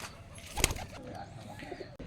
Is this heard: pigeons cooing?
yes